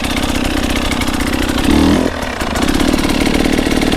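Motorcycle engine running close by while the rider finds the clutch bite point for a pivot turn: a loud, steady, throbbing idle that pitches up briefly midway, then dips and settles back to a steady putter.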